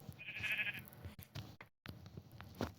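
Sheep in the Minecraft video game bleat a few times, short wavering calls at moderate loudness over a faint game background, with one brief silent gap between them.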